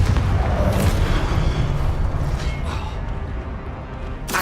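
Confringo spell explosions in Hogwarts Legacy, heard as dense, loud, sustained rumbling blasts with brief sharp bursts layered over a continuous roar.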